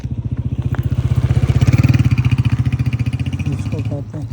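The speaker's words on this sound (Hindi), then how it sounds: "ये है होंडा 125" A Honda 125 motorcycle rumbles close by at night, its steady low engine thrum swelling as it passes, with a voice talking over the engine throughout.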